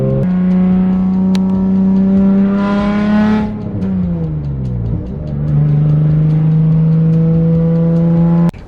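Nissan 350Z engine pulling steadily while driving, a loud close drone with strong harmonics that climbs, drops around a shift, then settles into a steady cruise, alone with no talk.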